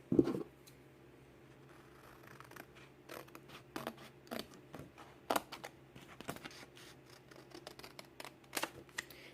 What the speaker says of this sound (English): So let's go ahead and cut out the transfer.